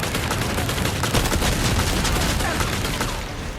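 Gunfire in the video game Resident Evil 4 Remake comes as rapid, dense bursts of shots and booms, loud and continuous, tapering slightly at the end.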